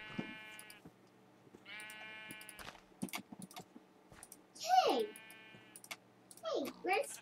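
Two short, wavering bleats from a black sheep in the video game Minecraft stand out near the end, between spoken voices and light keyboard clicking.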